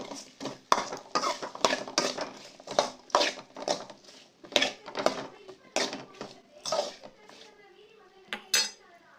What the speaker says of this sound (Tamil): இப்போ இந்த கத்திரிக்காயை நல்லா வதக்கிடலாம்